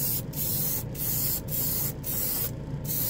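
A 3-in-1 airbrush sprays primer thinned with lacquer thinner onto a model wing. It makes a close, steady hiss, broken by four or five brief pauses.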